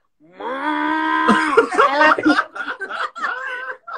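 A person imitates a cow, starting with a long drawn-out moo and breaking into laughing, chuckling moo-like sounds, close and fairly loud.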